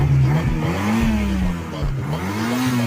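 A car engine revving hard and close, a loud steady drone with its pitch rising and falling through repeated throttle blips.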